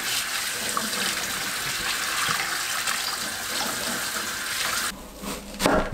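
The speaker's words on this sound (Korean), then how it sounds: "물에 헹굽니다." Mackerel being rinsed under running water in a kitchen sink, a steady loud splashing stream that stops abruptly near the end, followed by a few small drips and clatters.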